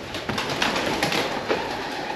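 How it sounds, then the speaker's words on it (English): Pigeons coo in an abandoned mill in Huddersfield, a steady muffled murmur of soft calls with a few louder bursts over a constant airy hiss. "Good lord, these pigeons."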